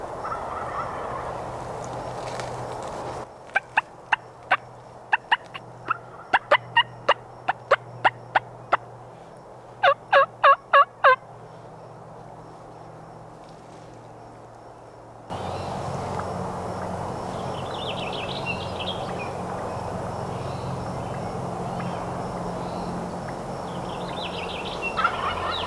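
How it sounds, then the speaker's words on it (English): Wild Merriam's turkeys in Washington gobbling in the evening, with at least two birds calling in repeated rattling bursts at a moderate distance over a low background hum, and no voices. "That's two different birds."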